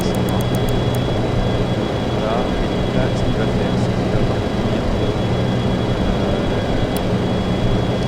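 Steady jet engine drone of an airliner in flight, climbing while holding 250 knots, a continuous loud cabin roar throughout with someone talking over it.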